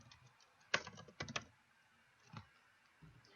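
Several quick bursts of computer keyboard key clicks, fairly quiet and close, then a few isolated taps with pauses between.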